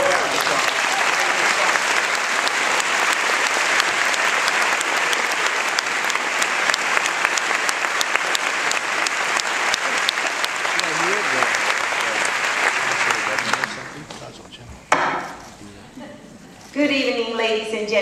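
Theater audience applauding the writer of the film Aftershock, dense sustained clapping for about fourteen seconds that then fades out, followed by a voice talking.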